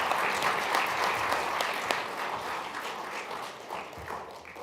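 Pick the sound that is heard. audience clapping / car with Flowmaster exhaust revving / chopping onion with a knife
audience clapping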